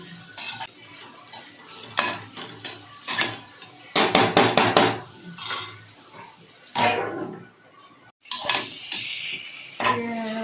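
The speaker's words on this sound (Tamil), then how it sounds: "கேபேஜ் போட்டு நல்லா வதக்கணும்." Shredded cabbage is sautéed in a pan for veg noodles, with a spatula scraping and knocking against the metal in bursts over a soft sizzle, close by.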